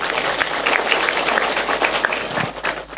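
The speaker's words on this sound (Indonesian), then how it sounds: "Tepuk tangan dulu dong" Applause from the audience at a pengajian religious gathering for the MWC NU and Muslimat PAC Langansari groups, steady crowd clapping that stays moderately loud and continuous throughout.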